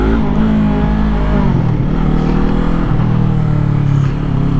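A 2019 Yamaha R3 motorcycle accelerates hard in first gear, its engine note rising loud and close in a continuous climbing drone with no talking.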